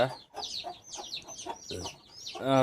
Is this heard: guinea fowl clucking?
yes